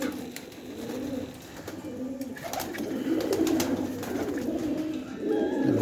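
Pigeons kept by a fancier in Gujrat coo softly and steadily at close range, low murmuring calls overlapping through the stretch with faint background noise and no talk.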